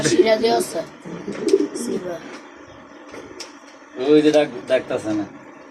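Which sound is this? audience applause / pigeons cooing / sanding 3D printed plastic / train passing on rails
pigeons cooing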